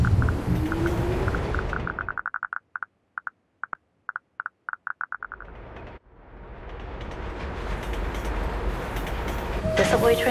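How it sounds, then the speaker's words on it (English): In PUBG Mobile's Erangel metro, a subway train departs: a heavy rumble drops away into a quick string of chime-like pulses, then the low rumble swells again as the train pulls out. "The subway train is departing."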